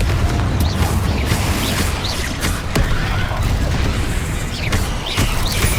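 Repeated explosive bursts of the Confringo fire spell in the Hogwarts Legacy video game, several blasts going off in rapid succession over a dense, continuous din of combat effects.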